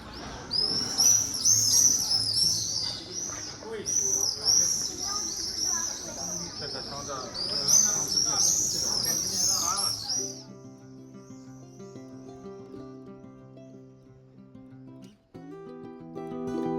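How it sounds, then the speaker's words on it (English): Birds calling at sunset above an old coastal city, with bright chirps and twittering repeating in quick bursts for about ten seconds before giving way to a steady tonal hum. "The birds are flying overhead for sunset."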